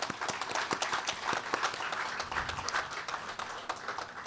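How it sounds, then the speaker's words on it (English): Applause from an audience at an outdoor news conference about an electric garbage truck, with scattered claps rising and falling over steady background noise, heard alone without speech. "So for these two reasons alone, it deserves our applause."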